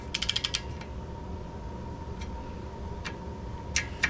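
Ratcheting wrench drawing oil pan bolts together in a crisscross pattern on a Toro Timecutter zero-turn mower with an oil leak, a quick burst of clicking pawl ticks at the start, then isolated clicks later over a steady mechanical hum.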